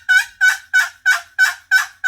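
A turkey hen's yelps are played on a wooden box call, six evenly spaced raspy notes in a steady cadence, loud and close with nothing else behind them.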